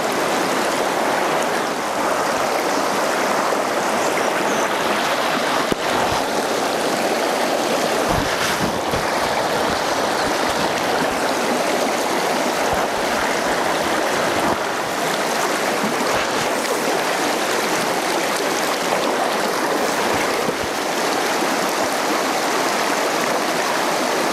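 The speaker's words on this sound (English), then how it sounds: "A lovely little pool just cascading off that." A small stream in Victoria cascades into a little pool, producing a continuous, full rushing of water close by, with a few faint knocks and bumps over the steady flow.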